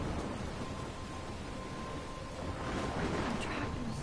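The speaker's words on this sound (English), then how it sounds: "I'm trapped in the storm?" Rainstorm in the video game Life is Strange, with dense heavy rain pouring steadily and a low rumble of thunder swelling toward the end, loud and enveloping.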